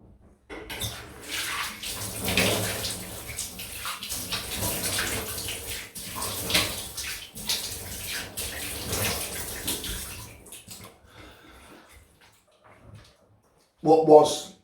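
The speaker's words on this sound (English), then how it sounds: "Yeah, I'll just rinse off." Running tap water splashing while shaving soap is rinsed off a face after a wet shave: a continuous close gush for about ten seconds, then quiet and a brief final splash.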